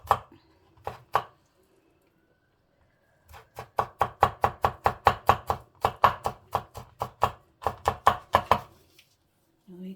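A knife chops bruschetta ingredients on a board, two quick cuts and then long runs of steady, rapid strokes with short pauses between, close and fairly quiet.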